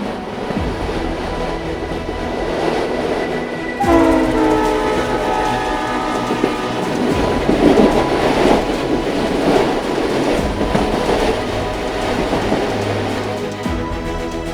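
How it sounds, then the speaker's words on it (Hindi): A train crosses the Pamban railway bridge, its rail rumble and wagon clatter steady and fairly loud throughout, with a sustained horn-like tonal blast rising partway through, no voices. "कैसे ये रेलगाड़ी इस पुल के ऊपर से गुजर रही है"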